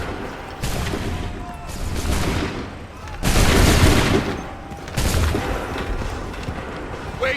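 Rifles fire on command in several loud, rough volleys, each a dense burst of overlapping shots followed by a short lull, with voices mixed in among the blasts.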